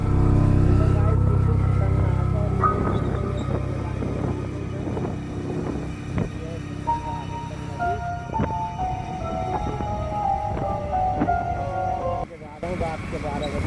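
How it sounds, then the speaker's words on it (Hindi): A motorbike ridden on a road at midnight in the cold, with a steady engine drone and wind rumble throughout while a rider talks over it. "देख लो कैसे जा रही है मेरी बाइक।"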